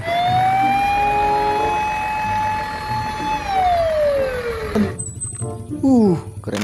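A toy fire truck's electronic siren wails in sweeping rising and falling tones, loud and close. It cuts off partway through as other toy noises and clatter follow.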